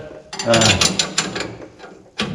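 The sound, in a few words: tightening U-bolt nuts with a wrench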